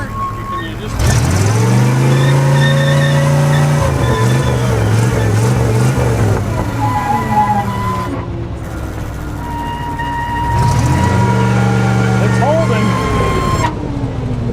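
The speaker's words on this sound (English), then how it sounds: "a small block Chevy breathing through duals and blast packs is the most beautiful sound in the world" A roughly 40-year-old small block Chevy V8 tow truck breathing through dual exhausts and blast packs, running and revving in loud, throaty surges that rise, settle, then swell again, close and dominant.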